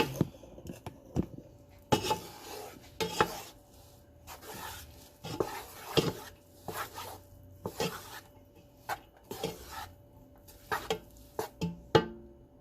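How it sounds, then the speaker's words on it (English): Rice being stirred in a pot with a utensil: repeated soft scraping and rubbing strokes, some brief clinks of metal, close and fairly quiet, no talking. "Just give this a stir with what I have."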